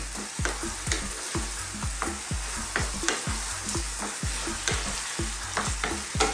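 Lasagna meat sauce of minced meat and plum tomatoes stirred in a pan, a rapid, rhythmic run of close spoon scrapes and thick squelches over a low sizzle.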